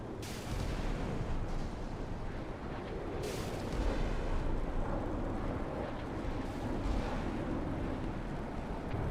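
Missiles strike ships in a naval combat video game, a dense, continuous rumble of explosions and blasts with a few sharper impact bursts standing out, loud and without talk.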